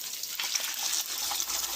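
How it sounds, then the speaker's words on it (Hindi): Mutton stock pours steadily into a cooking pot over fried rice and meat for pulao, a continuous splashing liquid stream heard close up without talk. "अब हम इसमें यखनी डाल देते हैं जो अभी हमने बनाई है।"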